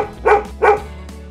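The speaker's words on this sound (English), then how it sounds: "Right again, it's a dog." A farm dog barks twice in quick succession, two short, close, moderately loud barks with a brief pause between them and a faint low hum underneath, no talking.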